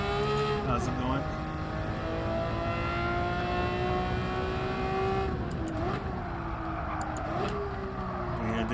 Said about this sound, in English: Yeah, the engine's already loud enough over here.